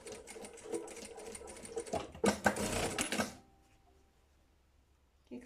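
A sewing machine stitches fabric for a pencil case in one continuous burst of rapid, close mechanical whirring lasting about three seconds, which then stops abruptly and leaves a quiet room.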